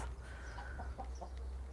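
Chickens in a garden clucking in short soft bursts at moderate distance, several quick calls over steady low background hum.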